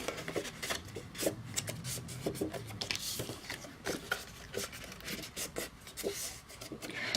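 Paper craft pieces are folded along score lines, with crisp creasing, rustling and small taps close up in an irregular sequence; no one speaks.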